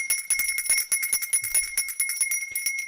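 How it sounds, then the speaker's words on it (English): A small bell bought in Chamonix rings repeatedly in quick, uneven shakes, bright sustained metallic tones jingling close and fairly loud with no voices over it. "this is the bell that I bought for the family over in Chamonix"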